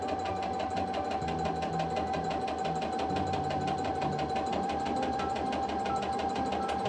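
Sewing machine stitching a pintuck into a small fabric mini wallet, a rapid, even mechanical chatter of the needle running steadily and close, with faint low motor hum beneath and no voices.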